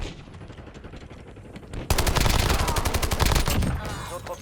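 Gunfire in the video game Call of Duty Warzone: quieter scattered shots give way to a loud, rapid burst of automatic fire that rattles on for over two seconds.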